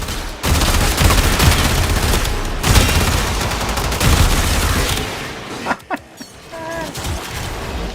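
Rapid automatic machine-gun fire from Warframe rattles loudly and continuously for several seconds, then breaks into a few scattered shots and short bursts.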